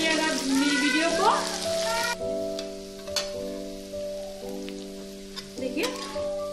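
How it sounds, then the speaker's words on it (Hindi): Potato, cauliflower and peas fry in a pan, giving a crackling, rain-like sizzle close by that sits under steady tonal humming and a few sharp stirring knocks. "देखिए फ्राई हो चुका है, आलू गोभी और मटर सब डन है"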